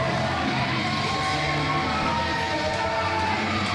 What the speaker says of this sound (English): Pat Shamrock and Joey Greco with a very loud crowd here.